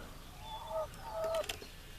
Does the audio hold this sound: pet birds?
yes